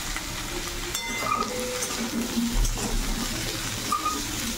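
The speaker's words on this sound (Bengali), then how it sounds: "এই সবজিগুলো ভাজতে দিয়ে যাচ্ছি" Potatoes and long beans sizzle steadily in an oil-filled pan in a home kitchen, with occasional scrapes and clinks of a spatula stirring against the metal; a continuous close-up crackle with no talking.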